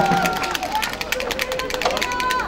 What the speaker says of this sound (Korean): 힘찬 박수 함성 부탁드립니다